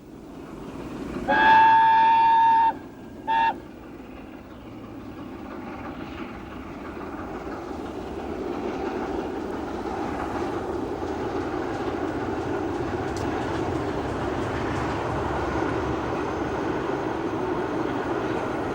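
Mallard steam locomotive on the East Coast main line, filmed in 1988: a loud two-part whistle blast near the start, then the steady rumble and rattle of the train running along the rails.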